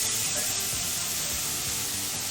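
Food sizzling in a hot frying pan, a continuous loud hiss and crackle close up, steady from start to end with no voices.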